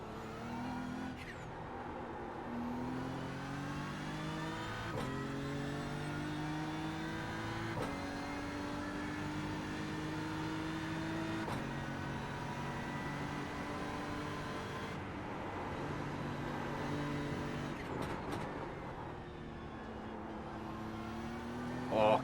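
Race car engine in the iRacing sim during Nürburgring 24-hour practice laps, droning loudly and continuously with rising and falling pitch through gear changes and braking, alone with no talk.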